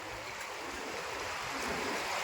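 River water near Rewa town by Prayagraj where pilgrims bathe, a steady broad rushing wash of flowing water heard close and continuous, with no voices.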